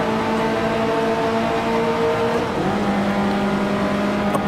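Engine of a 1955 Formula One car in Grand Prix Legends, droning steadily at high revs, then briefly dipping and resettling at a lower pitch as it shifts up into fifth gear; loud and continuous throughout.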